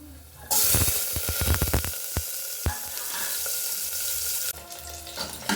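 Onions and garlic frying in hot oil for beetroot palya, a loud steady sizzle erupting suddenly, with stirring knocks early on, then dropping partway through.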